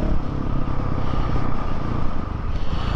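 A Honda CRF450RL motorcycle engine runs close by as the throttle is blipped, a rough, pulsing rumble with small rises in revs and no talking.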